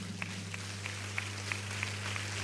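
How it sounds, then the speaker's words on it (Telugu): A church congregation at a Sunday worship service claps in a steady rhythm, the evenly spaced claps sounding faint and distant over a low electrical hum. "చప్పట్లు కొడతాం గట్టిగా."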